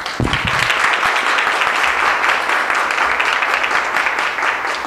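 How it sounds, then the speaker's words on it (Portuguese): A hospital audience claps loudly for presenters at a nursing clinical study session, dense sustained applause filling the room from start to finish. "eu peço uma grande salva de palmas para as gurias também"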